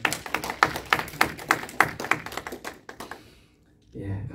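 Clapping in a church service as the congregation applauds an elder: a handful of sharp, rhythmic claps, close and distinct, that thin out and stop, followed by a brief low voice.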